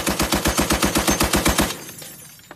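A machine gun fires one fat sustained burst of about fifteen rapid, evenly spaced loud shots, then the firing stops and only faint echo and background remain.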